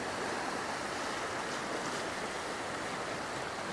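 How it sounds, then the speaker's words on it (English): Ocean waves break and wash onto the shore under stormy weather, a steady, loud broadband roar of surf with wind noise, continuous for the whole stretch, with no voices. "Okay, here comes some waves."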